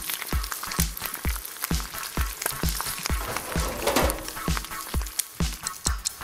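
Pasta tossed into a pan of bacon and cream, sizzling and frying close up with a steady crackle and a regular rhythm of stirring knocks throughout.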